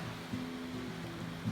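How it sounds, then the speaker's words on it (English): Heavy rain pours steadily outside near a boat at anchor, a constant soft hiss of falling water with no talk, fairly faint throughout. "That's a bit of serious rain out there."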